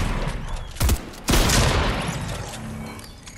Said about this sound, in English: hopefully they heard the gunshots